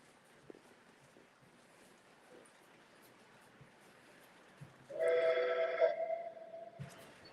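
A model train whistle sounds for about a second, distant and steady, over a low background rumble.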